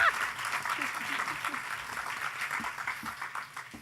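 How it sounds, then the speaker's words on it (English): Audience applause, a moderate wash of clapping that softens as it goes on, with voices talking faintly underneath. "So one more big round of applause."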